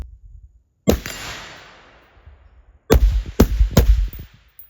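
Four suppressed gunshots from a rifle fitted with an Anechoic titanium suppressor, picked up by a camera mic: one sharp report with a long decaying tail, then three quick shots close together, all loud and outdoors.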